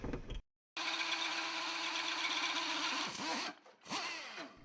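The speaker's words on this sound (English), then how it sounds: "Then drill 3 or 4 holes equal distance apart between both of them right at the top." Close, loud whine of a power drill boring holes in metal cans, running steadily for a few seconds, stopping and restarting, with brief pauses between runs.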